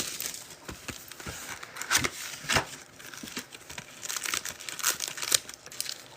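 NFL trading card packs being torn open one after another, close crinkling foil wrappers with sharp ripping bursts and rustling in an irregular rhythm.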